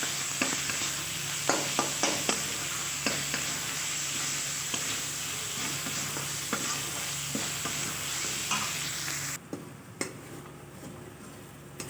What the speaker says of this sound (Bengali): দিয়ে ভালো করে ভেজে নেব লাল লাল করে।